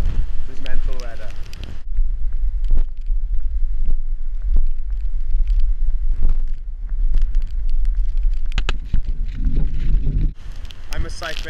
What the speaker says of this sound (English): Look at this wind, guys.